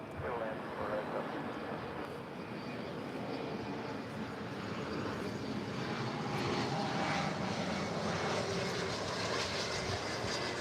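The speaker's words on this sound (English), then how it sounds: "This is a Bombardier Challenger 350 coming in from Mountain View." Bombardier Challenger 350 business jet landing at LAX, a steady broadband jet engine roar that swells slightly toward the end, continuous and fairly near, with faint radio chatter underneath.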